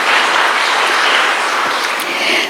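Audience applause at a spiritual gathering, a dense, loud, continuous wash of many hands clapping that holds steady throughout without any voices on top.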